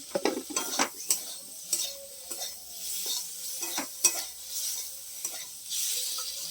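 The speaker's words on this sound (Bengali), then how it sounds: "হলুদ গুঁড়োটা দিয়ে দিল দিয়ে মশলাটা একটু ভালো করে কষিয়ে নিচ্ছে" Turmeric and spice masala frying in a pan for an egg and potato curry, with a steady sizzle and repeated clinks and scrapes of a spoon stirring against the pan, close and moderately loud with no talk.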